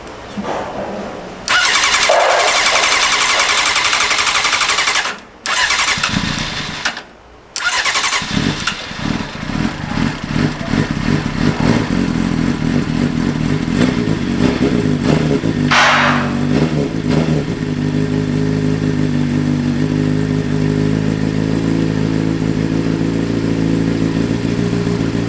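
A Honda CBR600RR sport bike, rebuilt after a wreck, cranks over and fires up, then stumbles briefly before settling into a loud, close idle broken by several sharp throttle blips, with no talking over it.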